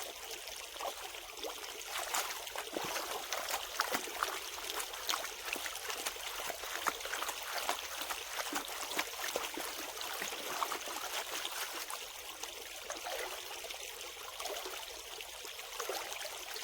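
Steady trickling stream water with repeated gritty scrapes of a gold pan working bedrock gravel, close by, continuing for the whole stretch with no talk.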